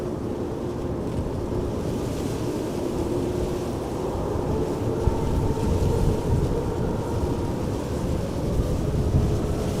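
A steady, distant roar of a departing airliner's jet engines at Amsterdam Schiphol Airport building slightly in loudness, a broad rumbling drone with no talk.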